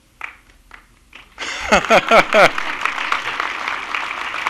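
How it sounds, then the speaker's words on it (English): Audience at a city inaugural ceremony in Somerville, Massachusetts, breaking into applause after a few scattered claps, then a loud sustained round of clapping with cheers mixed in. "That's always worth clapping for."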